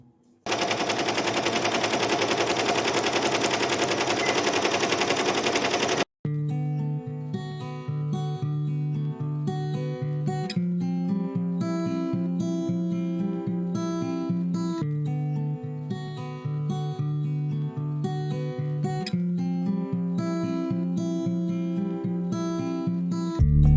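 A Ricoma EM1010 embroidery machine stitching an Easter basket on a fast frame: a rapid, continuous mechanical chatter like fast gunfire, loud throughout, with a dense rush in the first few seconds and steadier rhythmic tones after, no speech.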